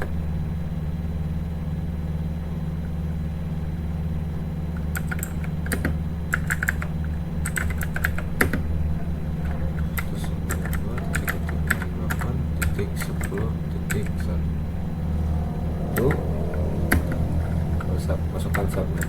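Keys clatter on a computer keyboard in quick bursts of typing, entering an IP address while configuring a network, over a steady low engine-like hum in the background.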